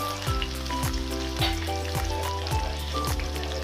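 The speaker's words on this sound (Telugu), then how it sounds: "పచ్చిమిర్చి, ఉల్లిగడ్డ వేసుకోవాలి. గంటతో కలుపుకోవాలి ఫ్రెండ్స్." Green chillies and onions frying in a pan for a tamarind-based okra curry, a steady close sizzle with crackling and occasional stirring scrapes, alone without talk.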